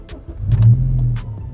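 A Honda Civic Type R EP3 fitted with a Spoon N1 exhaust, its exhaust bung removed, drives past with a short, loud engine swell that rises and settles over about a second and a half.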